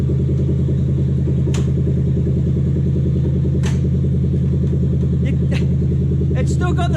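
A Toyota Hilux Vigo 4x4 with a swapped 3UZ V8 engine and manual gearbox runs with a steady, loud, deep rumbling drone, constant throughout, with a few brief knocks and a faint voice near the end.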